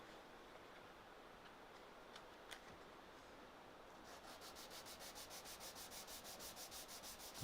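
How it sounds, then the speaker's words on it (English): A 180-grit sanding block is rubbed by hand over wood, very quiet at first, then a rhythmic run of quick back-and-forth scratching strokes, close up and without talk. "Sanding block and a little bit of 180."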